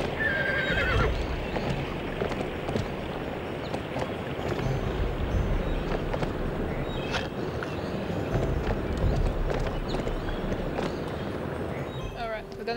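Video game horse from Barbie Horse Adventures galloping with rapid hoof clip-clops and a whinny over a dense, continuous game soundscape of rushing ambience, steady and fairly loud throughout.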